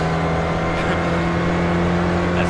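A Ford SCCA Spec Racer engine in iRacing at Summit Point holds a loud, steady high-rev drone with a constant whining tone, running without a break from start to finish.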